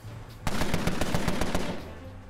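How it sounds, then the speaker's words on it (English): A machine gun fires a rapid, evenly spaced burst of about ten loud shots in the Empire of Sin video game, close and punchy, starting abruptly after a brief low rumble and fading into ambience afterward. "Whoa, he's got a machine gun too."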